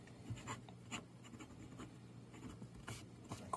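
A Faber-Castell Loom fountain pen with a fine steel nib scratches softly across paper in short, irregular strokes, close and quiet, with light tapping between words.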